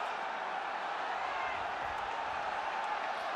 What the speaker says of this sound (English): The crowd squeezed into Stradey Park